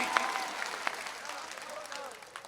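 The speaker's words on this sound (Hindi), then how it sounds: "एक बार दोनों हाथ खड़कर जोरदार ताली बजाकर मुझे बताएं कि मेरी शायरी आप तक पहुंची" A mushaira poetry audience claps and applauds with a dense, continuous patter of many hands, and voices are audible through the clapping.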